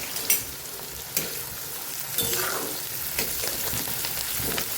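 Sesame seeds sizzling in hot oil in a pan with cabbage and onion, a close crackling fry marked by a few sharp pops and spatters and spoon scrapes, with no talking.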